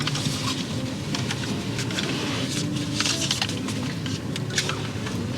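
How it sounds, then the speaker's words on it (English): Rain patters steadily across a car windscreen, a dense, even wash of tiny drops with occasional louder taps, close and continuous throughout. "here comes the rain"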